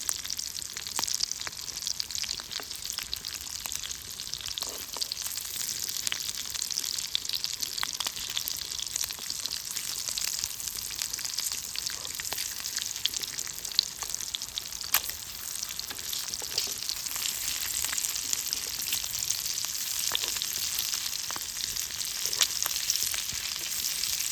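Eggs frying in hot oil in a pan give a steady, close, bright sizzle with fine crackles and spits that continue without a break and without any voices.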